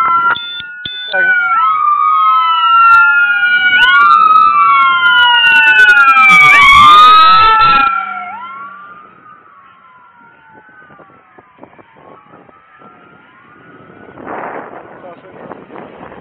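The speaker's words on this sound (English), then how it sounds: "that was an ambulance" Loud ambulance sirens wail and sweep up and down in overlapping tones, then fade into the distance amid traffic noise.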